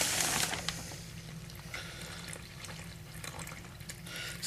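Water pours steadily from a container into a bowl of flour, salt and yeast for an 85% hydration pizza and ciabatta dough, a continuous close splashing trickle with no talking.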